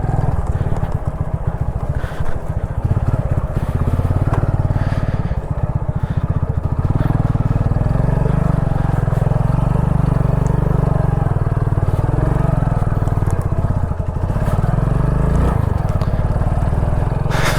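A motorcycle engine drones continuously at close range while the rider warms the bike on a cold route toward Kanthallur village, with occasional rough scraping and crunching from the surface beneath.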